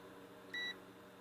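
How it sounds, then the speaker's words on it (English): A multimeter on continuity setting gives one short, faint electronic beep as its test probes touch together, over a low steady hum in a workshop setting. "That was me hitting the probes together."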